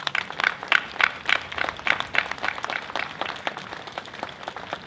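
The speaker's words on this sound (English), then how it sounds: "Let's give them a round of applause." Audience applause at a memorial ceremony for the 50th anniversary of the fall of South Vietnam, steady crowd clapping with dense overlapping claps and a few sharper accents, moderately distant and continuing throughout without speech.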